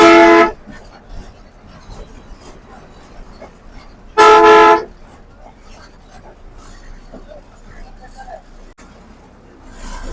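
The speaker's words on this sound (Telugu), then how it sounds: "బస్ స్టాండ్ నుంచి బస్ అయితే స్టార్ట్ అయింది అనమాట" A bus pulls out of a busy bus stand, sounding two loud, sharp horn blasts several seconds apart over a low rumble of traffic and background chatter.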